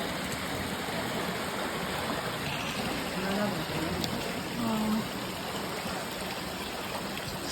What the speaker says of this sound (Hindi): तो देखिए पूरा कितना पानी आ रहा है।